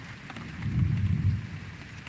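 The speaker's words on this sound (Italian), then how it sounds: "Guarda qua, Anna, visto che fulmine che è arrivato, mannaggia che abbiccia veramente." Rain falls steadily during a night lightning storm, a constant hiss of drops with a low thunder rumble swelling in the middle before easing off.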